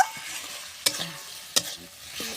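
Chicken kosha is sautéed and stirred in a pan, frying hard: a soft background sizzle broken by a few sharp scraping clatters of the spoon against the pan.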